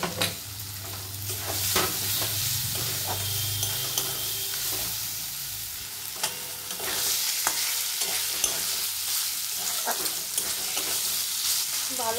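Chicken keema fries with turmeric in a pan, a steady close sizzle broken by repeated scraping stirs and light knocks throughout, fairly loud and with no talking.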